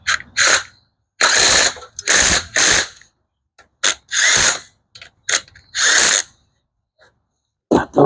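Hand ratchet tightening nut and bolt on a TTR50 motorcycle during reassembly, a series of close, sharp clicking bursts in uneven bunches separated by short silences.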